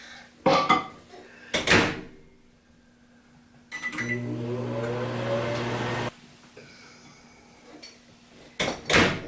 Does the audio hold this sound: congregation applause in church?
no